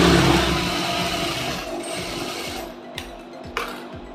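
Sewing machine stitching a straight seam through blouse lining: a dense mechanical whir that fades out partway, leaving a few sharp clicks and light handling knocks near the end.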